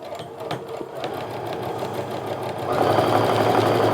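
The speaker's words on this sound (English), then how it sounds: "I'm gonna sew a few stitches in just to get everything nice and secure" A sewing machine stitches through a quilt in a steady, close whir, speeding up and growing louder toward the end as the needle runs faster.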